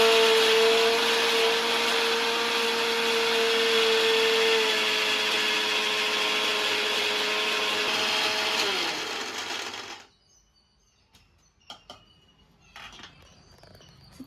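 A mixie grinder whirs loudly and steadily as it grinds fish masala, then cuts off abruptly, leaving faint clatter and handling noises.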